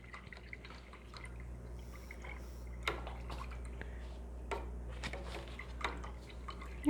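An acrylic painter's brush is rinsed in water, giving quiet, intermittent swishes and drips over a low background hum, with no talking.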